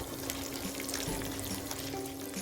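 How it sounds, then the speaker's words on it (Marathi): Urad dal with garlic cloves and ginger pieces fries over medium heat in a pan, a close, continuous sizzle and crackle with faint stirring, no talk. "लसणाच्या पाकळ्या टाकू आल्याचे तुकडे याला मिनिटभर परतून घेऊ"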